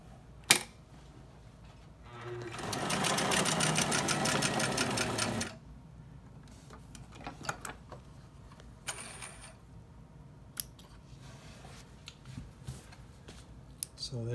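A Singer 247 sewing machine running a straight stitch, a steady rapid mechanical whirring for about three seconds, close and loud, followed by quieter clicks and handling noises.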